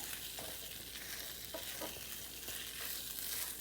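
Jaggery and flaxseed stirred with a spatula in a hot pan for pinni, a steady close sizzle with soft scraping strokes and no talk.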